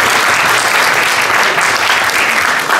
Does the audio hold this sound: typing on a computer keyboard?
no